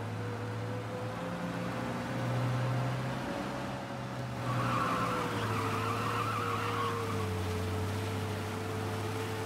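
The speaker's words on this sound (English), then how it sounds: "Just get in the car anyways." A car in Mafia: Definitive Edition, set in the 1930s, drives along with a steady low engine drone and a constant hum. A hiss of road or wind noise swells midway through, moderately loud with no talking.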